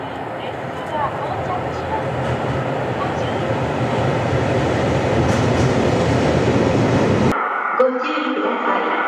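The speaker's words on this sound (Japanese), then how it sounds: "2番線の列車が到着。" A commuter train near Sapporo rolls into a station platform, its loud continuous rumble and clatter filling most of the stretch before cutting off abruptly, followed by a brief electronic announcement chime.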